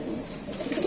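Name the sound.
Rampuri pigeon cooing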